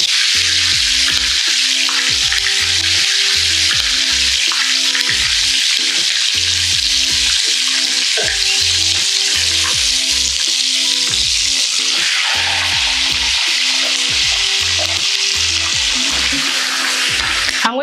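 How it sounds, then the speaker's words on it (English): Chicken pieces fry in hot oil, a loud, continuous close sizzle and crackle with rhythmic bubbling pulses lasting the whole stretch, no voices. "I'm going to let this fry for 2 minutes and then I'll turn it and fry for another 2 minutes."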